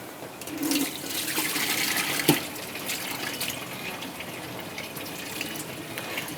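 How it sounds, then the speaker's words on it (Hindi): Water drained from cut bottle gourd (lauki) runs steadily into a kitchen sink, a continuous splashing trickle with one brief clink, heard alone. "पानी इसका ड्रेन कर देते हैं।"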